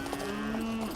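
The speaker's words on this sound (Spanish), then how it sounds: "Hay unas vacas también ahí." Cattle lowing in an open field along a rural colony road, one sustained moo held for most of a second, steady and fairly close, with no talking.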